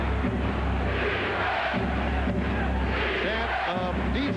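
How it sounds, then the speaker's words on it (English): A capacity crowd at a Bulls–Knicks NBA basketball game chanting "defense" in a loud, rhythmic, repeated chant that fills the arena, with a commentator's voice heard over it. "Chant of defense from this capacity crowd"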